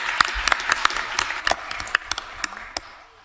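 A small group applauds at a county commission meeting, with sparse, distinct hand claps at an uneven pace that thin out and fade toward the end.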